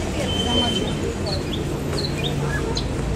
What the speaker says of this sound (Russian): Что за птички-то поют?